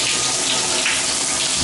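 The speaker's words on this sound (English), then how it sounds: "And so let's check the water pressure." Bathtub faucet turned fully open, water gushing in a loud, steady, dense hiss with no pauses for the whole stretch.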